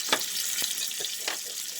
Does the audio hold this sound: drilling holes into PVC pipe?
no